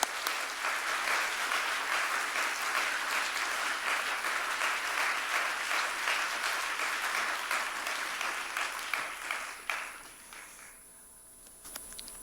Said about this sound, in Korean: 힘차게 박수로 맞이하겠습니다.